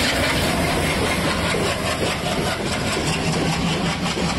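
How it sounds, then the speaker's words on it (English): An ALCO WDG3A diesel locomotive chugs steadily as it pulls a train out of the station on the Bangalore Cantonment curve, its loud, dense engine rumble close and continuous, with no voices. "I love this smoking and chugging and tugging as the train pulls out of the station on the Bangalore Cantonment curve."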